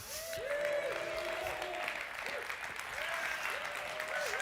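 An audience at a live Crossroads gathering claps and cheers in a steady, dense wash of applause, with a few whoops and shouting voices rising above it throughout.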